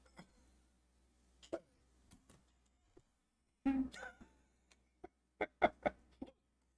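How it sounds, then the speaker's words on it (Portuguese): A person hiccups again and again in short, sharp bursts spaced irregularly, some louder than others, close to the microphone in an otherwise quiet room with no talking. "O soluço não para, gente. Vai ser difícil eu parar de soluçar."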